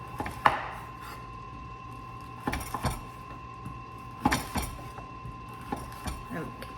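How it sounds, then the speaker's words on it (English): Knife slicing through acorn squash laid flat side down on a cutting board, giving a few sharp, separate chopping knocks spaced a couple of seconds apart, close and fairly clear over quiet room background. "Now I'm gonna put my squash, flat side down, and we're gonna start slicing."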